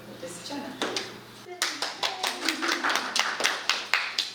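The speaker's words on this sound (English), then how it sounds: "A round of applause." An audience at a community network event breaks into applause, starting with scattered claps and building into steady, fairly close clapping from a modest crowd, with brief talk at the start.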